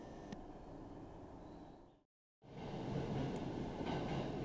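Steady low rumble of a Joban Line rapid commuter train running between Narita and Ueno, interrupted by a brief near-silent gap, then the rolling noise resumes a bit louder.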